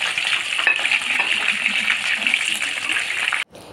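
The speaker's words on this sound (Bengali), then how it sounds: "সব সাটেগুলো একবার ফ্রাই করার পর কিন্তু দ্বিতীয়বার আবার ফ্রাই করতে দিয়ে" Chicken satay skewers sizzling in hot oil during a second frying, a steady dense crackle and spatter that runs continuously and close, then cuts off abruptly near the end.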